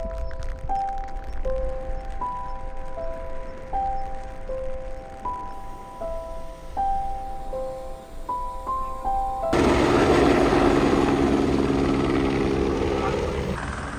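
Helicopter carrying soil over the Dolomites in Italy, its rotor and engine roar surging in loud and close partway through and staying heavy, after a stretch of tonal music-like notes over faint background.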